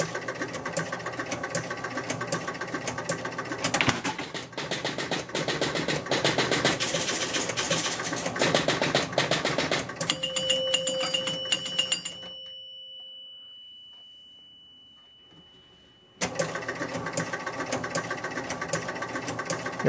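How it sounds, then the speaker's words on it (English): The score motor of a Spirit of 76 pinball machine stuck in runaway mode runs with a loud, rapid mechanical chatter. It cuts to a fading hum and near silence, then the clattering resumes abruptly. "Yeah, the score motor's still running."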